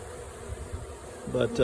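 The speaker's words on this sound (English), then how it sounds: "first swarm of the year anyway. It's a big one, real big one." A large honeybee swarm headed by three queens buzzes steadily nearby, a dense insect hum that rises and grows louder toward the end.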